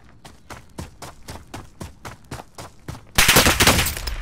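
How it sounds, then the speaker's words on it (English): Call of Duty Modern Warfare gunfire: a rapid, evenly spaced string of close shots, about three per second, then a burst of louder, denser automatic fire and impacts at the end, with no talk. "I'm taking fire!"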